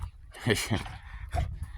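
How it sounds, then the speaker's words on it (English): Several dogs make short whimpering yips and breathy noises close by, in an outdoor garden with planters on a mountain property, with faint background sound between the calls. "got a bunch of dogs here right now."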